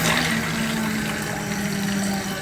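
A toilet fill valve hums and vibrates steadily as water flows through it, a constant close droning buzz over rushing water with no voices.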